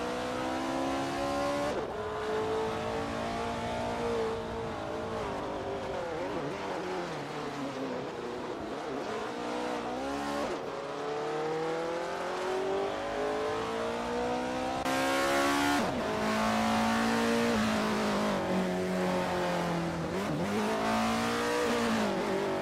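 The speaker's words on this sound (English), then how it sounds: "Bot Sikapol is currently in 1st place, driving the 1968 Techno 68 Optimal 68" Race cars in a racing video game, including a 1968 Techno 68 Optimal 68, with engines revving and accelerating through repeated rising and falling gear sweeps, steady and continuous throughout, with no talking.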